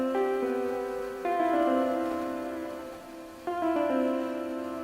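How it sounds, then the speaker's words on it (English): Electric guitar part from a produced beat, sustained chord-like notes ringing in two phrases with a fresh strike near the start and again around the midpoint, clean and alone with no talking. "So the first guitar sounds like this."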